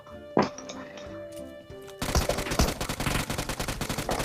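Gunfire in a mobile shooter video game: after quieter in-game sounds, loud rapid bursts of automatic fire begin halfway through and rattle on in close, repeated strings.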